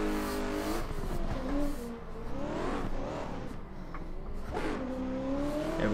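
A race car engine in a racing video game revs hard through the gears, its pitch climbing and dropping in repeated sweeps as it shifts up into fifth, steady and moderately loud with no talk.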